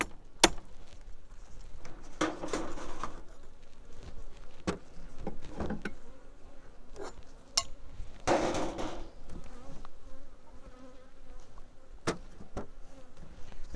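Honey bees buzzing around a beehive, a faint, intermittent drone rising and falling as bees pass close, with a few sharp knocks and taps from hive handling in between.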